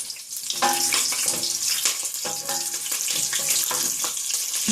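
Bay leaves, black cumin seed and fresh green chili frying in hot oil while being stirred, a steady close sizzle with intermittent clinks and scrapes of the spoon, no voices.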